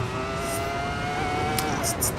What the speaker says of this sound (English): The sound of the engine is amazing.